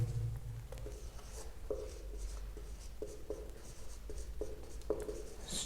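A pen scratches across paper in short repeated strokes, close and quiet, with soft rhythmic scribbling throughout.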